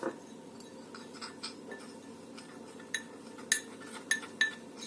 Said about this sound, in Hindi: अब जो सामान मैंने आपको दिखाया था वो सारा सामान मैंने पीस लिया है और इस सामान को मैं इस शहद में मिक्स कर दूंगी